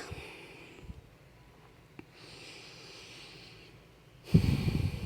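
A yoga student takes slow, heavy breaths while holding a pose, in two soft airy exhales followed by a louder, closer breath near the end with no talking.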